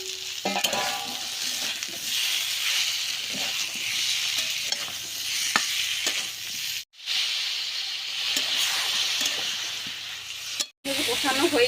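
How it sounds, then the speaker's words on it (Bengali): Green jackfruit, potato and prawns fry and are stirred in a pan, a continuous loud sizzle with repeated scraping strokes, cut off by two brief silences. "এবার দিয়ে দেবো ইঁচড়, আলু আর চিংড়ি দিয়ে দেবো। খুব ভালোভাবে কষে নেব।"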